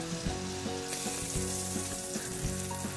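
Thin venison steaks fry in a pan with a steady, close sizzle and crackle, a few soft pan knocks mixed in, and no one speaking.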